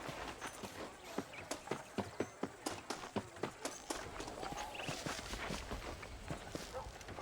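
Horse hooves clip-clop in steady rhythm in the western video game Red Dead Redemption, a horse ridden at a walk over ground with faint ambient noise and distant voices.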